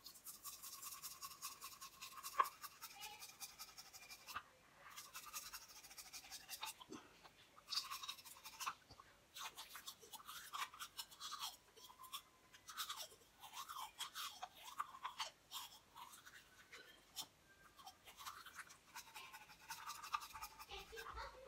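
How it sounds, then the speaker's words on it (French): Toothbrush scrubbing the tongue during a tooth-whitening and plaque-removal routine, a steady bristly brushing with repeated short strokes, close and quiet, with no talk over it. "vous allez juste laver la langue bien frotter la langue"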